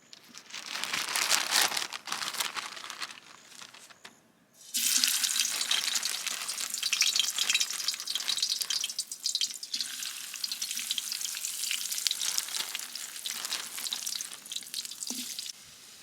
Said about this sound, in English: Pop my pan of oil on, give that a couple minutes to heat up, bomb some chippies in